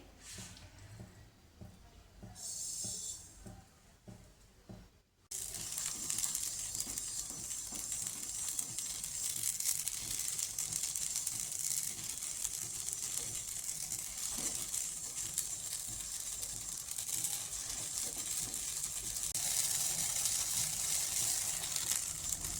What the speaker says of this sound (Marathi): चला तर मग आता मी इथे लाह्या भाजून घेते.